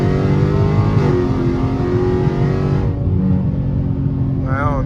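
A Dodge Charger Scat Pack with the 392 engine accelerates hard at night, its loud, deep exhaust note climbing steadily through the revs before a gear change and a renewed pull.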